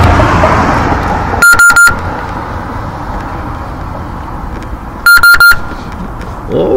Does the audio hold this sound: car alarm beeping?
yes